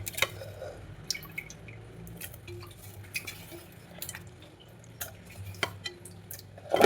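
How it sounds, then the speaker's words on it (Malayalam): Fish being washed in water in a bowl: sparse drips, splashes and light clinks of a vessel, quiet and close, with a low hum underneath. "അതിനകത്തോട്ട് മീൻ നമുക്ക് കഴുകി ഇടാം."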